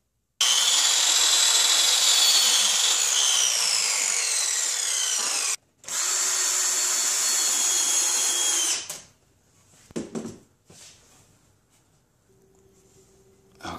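Power tool driving fasteners through a 2x2 wood furring strip into framing, two long loud whirring runs with a brief pause between, followed by a few quieter knocks and handling sounds.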